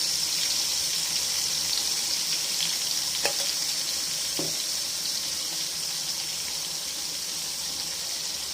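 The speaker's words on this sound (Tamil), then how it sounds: "இந்த அளவு கத்திரிக்காய் எல்லாம் வெந்துக்கிட்டு இருக்குது" Brinjal, onion and tomato cooking in oil in a pan for a tamarind curry, giving a steady soft sizzle and bubbling throughout with two brief utensil taps.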